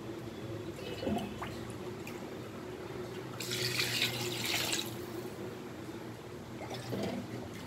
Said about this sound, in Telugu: ఇప్పుడు వాటర్ పోస్తాను.